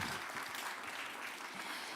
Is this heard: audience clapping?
yes